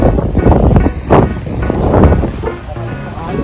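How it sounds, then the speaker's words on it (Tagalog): Strong wind on a beach on Bantayan Island buffeting the microphone in heavy, uneven gusts, a loud roaring rumble that swells and eases over a few seconds. "Lakas ng hangin."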